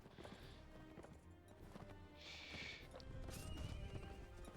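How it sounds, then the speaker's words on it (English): Horse hooves clatter in a steady gallop with a loud whinny midway, over busy game music and effects in the game Mount and Blade: Warband. "There goes this horse."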